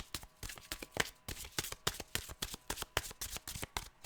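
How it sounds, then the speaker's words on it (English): A deck of tarot cards is shuffled by hand at close range, a quick run of crisp riffling flutters and taps in an uneven rhythm, quiet and with no one talking. "Because this is some shuffling right here."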